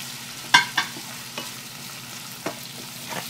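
Garlic sautéing in a pan crackles steadily at low level. A few sharp clicks and taps of a utensil against the pan break through now and then, and no one speaks.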